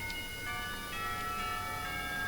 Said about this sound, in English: the pealing of the bells